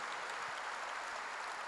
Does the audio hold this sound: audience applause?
yes